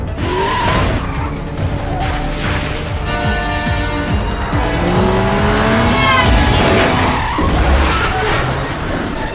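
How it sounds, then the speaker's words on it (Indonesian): A car chase in a crime film plays out with roaring engines, squealing, skidding tires and a crashing collision between vehicles, all loud and close in a dense, continuous mix. "Mereka pun mengejar Kyung-ho pakai mobil ala-ala film The Fast of the Furious dan tiba-tiba mereka pun saling tabrakan."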